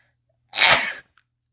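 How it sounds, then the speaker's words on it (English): A single close, sharp sneeze, one short explosive burst with silence on either side. "I'm going to sneeze."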